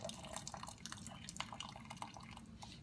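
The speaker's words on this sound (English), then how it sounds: "So just lift the bag up, and we're gonna drain the water here." Water drains and drips from a lifted bag of blanched vegetables, giving a steady patter of small splashes with scattered louder drops close by.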